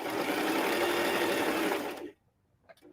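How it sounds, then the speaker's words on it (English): A sewing machine runs a zigzag stitch along the side of a sweatshirt, a close, steady mechanical whir for about two seconds before stopping abruptly, followed by a few faint clicks. "why am I doing a zigzag stitch on the side of the sweater?"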